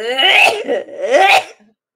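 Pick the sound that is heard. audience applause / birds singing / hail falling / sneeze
sneeze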